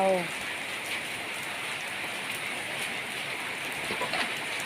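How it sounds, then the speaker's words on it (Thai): Heavy early-morning rain pours steadily in a dense, constant hiss, with a brief voice at the very start. "ฝนตกหนักมากเลยนะคะ"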